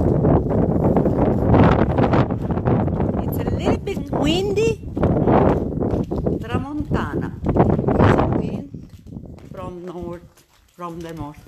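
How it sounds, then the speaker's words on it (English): Gusty wind on a hillside street in a medieval Sicilian village, roaring and buffeting steadily beneath a voice talking almost throughout. "It's a little bit windy."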